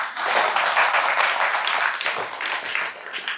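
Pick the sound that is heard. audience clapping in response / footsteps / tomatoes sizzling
audience clapping in response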